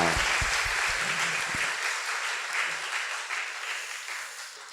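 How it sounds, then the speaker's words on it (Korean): Applause from a church congregation at a Sunday evening worship service, thanking the worship team; dense, steady clapping that starts loud and slowly fades across the moments, with no voices over it. "귀한 찬양 인도한 우리 찬양단에 와서 격려 박수하도록 하겠습니다."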